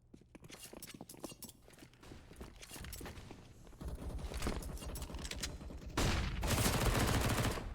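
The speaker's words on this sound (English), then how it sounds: "Shots come out." Gunfire in a professional Counter-Strike match on the Mirage map, with rapid bursts and rattling shots that build in intensity, dense and fairly loud game audio with no clear voices.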